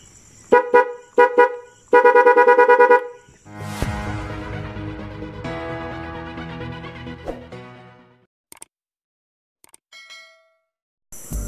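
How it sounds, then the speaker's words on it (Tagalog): Dual horn fitted to a motorcycle honks in several short and long blasts, loud and close, followed by a fading ringing tone and a few faint clicks, with no talking. "Tapos busina."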